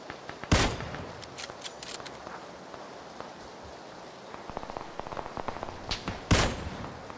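Sharp gunshots in a rooftop sniper shooting video game, with two loud cracks near the start and end and scattered lighter impacts and clicks in between.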